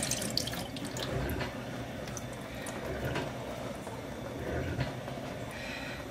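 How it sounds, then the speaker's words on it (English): Liquid drains steadily from a jar of home-canned potatoes with a soft, continuous trickling and splashing. It is fairly quiet and close, and no one speaks. "I'm going to drain those off."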